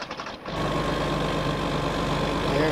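A tractor engine in Farming Simulator 19 cranks and catches, settling into a loud, steady low rumbling idle close up, with no talking.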